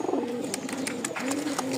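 Pigeons coo softly and repeatedly at close range, low throaty calls overlapping in a quick rhythmic series without any talking.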